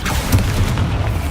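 Bombarda spell explosion in the Hogwarts Legacy video game, a loud, sustained booming blast with deep rumble and crackling debris that fills the whole moment, no voices over it.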